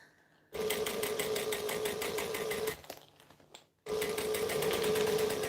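Sewing machine stitching piping at a size 4 stitch length, a close, loud, steady rhythmic whir that starts after a moment of quiet, pauses briefly, then resumes, with no talking.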